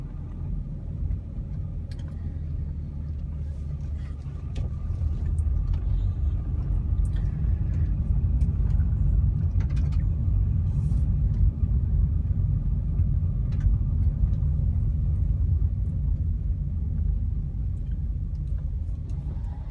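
A 2005 Honda Accord EX-L being driven down the road, with a steady low engine and road rumble that swells slightly as it picks up speed and shifts, continuous and close throughout.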